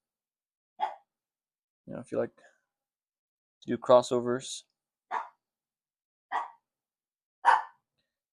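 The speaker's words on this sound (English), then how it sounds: "Sorry if you hear my dog in the background." A dog barks a few times in sharp, spaced-out yelps, slightly distant, while a person talks briefly in between.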